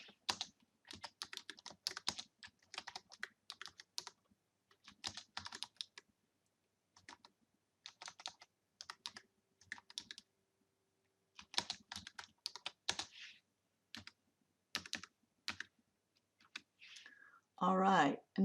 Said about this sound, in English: And I want to start typing